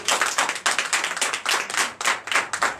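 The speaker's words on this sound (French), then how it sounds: "Donnez l'acclamation à notre Seigneur Jésus." A church congregation at a Sunday service in Comè, Benin claps in a burst of applause, dense overlapping hand claps with no speech.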